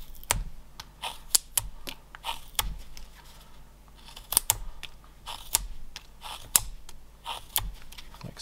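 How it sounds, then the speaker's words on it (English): A whittling knife makes swipe cuts along the corners of a small wooden Christmas ornament. The close, sharp scraping cuts come one after another at an irregular pace, with no voice over them. "you literally just are going to swipe cut all the way, starting with the corners."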